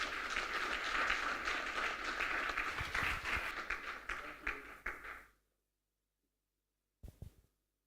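Applause for the speaker Fatuma at a youth agricultural conference: a full room of hands clapping loudly and continuously, then cutting off abruptly, followed by silence and a brief scattered final clap.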